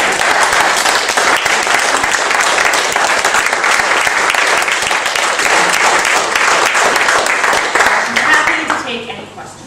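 An audience at a veterinary presentation on hoof wall separation disease breaks into loud, dense, sustained applause that fades out near the end.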